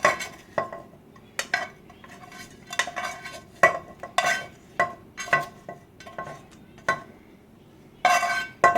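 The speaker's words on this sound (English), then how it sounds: "So now, we're going to go ahead and add our bacon in." Bacon dropped into a metal soup pot for potato soup, with a run of sharp clinks and scrapes of a utensil against the pot at an irregular rhythm, close and moderately loud, no speech.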